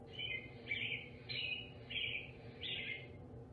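A small bird chirps in five short, bright bursts at a steady, evenly spaced rhythm, fairly faint over a low background hum.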